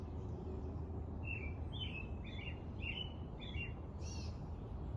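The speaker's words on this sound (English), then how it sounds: "just hearing the birds in the back" Small birds chirp in an Andalusian garden, a series of short, bright whistled calls repeating every half second or so over a steady bed of low outdoor background noise, fairly faint and somewhat distant.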